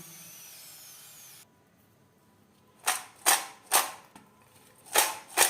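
Crispy fried French fries are bitten and chewed close up, making five or six sharp, loud crunches in uneven rhythm after a stretch of faint hiss and near silence.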